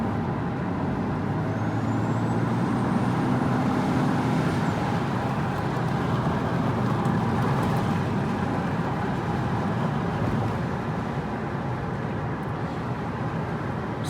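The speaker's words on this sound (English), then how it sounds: "1/3 throttle, maybe, to get the turbo to start spooling." A Toyota Supra MKIV's turbo spools up under partial throttle, a steady broadband engine roar with a thin rising whistle that climbs and holds before dropping away, heard from inside the car.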